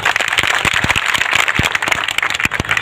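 Clapping from an audience at a Kushwaha community Lav-Kush Jayanti gathering in Ashoknagar, a dense, steady patter of many hands applauding together, fairly loud and continuous with a few sharper claps standing out.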